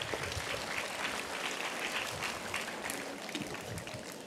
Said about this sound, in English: let's give them a huge round of applause for their efforts and dedication